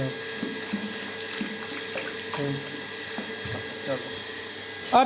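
A tap running steadily with water splashing into a basin, a continuous gentle rush with occasional clinks nearby.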